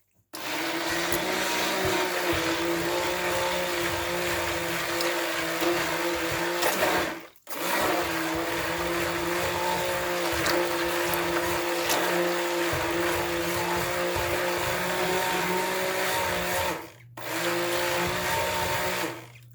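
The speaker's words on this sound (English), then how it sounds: "puree this up a little bit with the hand mixer" A hand mixer pureeing tomato sauce whirs loudly and steadily, running in two long bursts with a brief stop between, then a short final burst; no talking.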